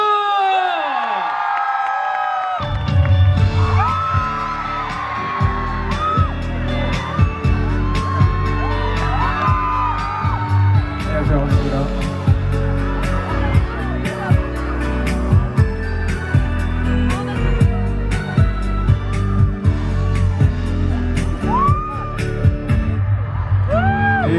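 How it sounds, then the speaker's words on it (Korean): A festival crowd cheers and whoops for a singer at the Pohang International Fireworks Festival. The dense crowd noise runs steadily for the whole stretch, with scattered shouts and bangs, after a brief quiet opening. "박수!"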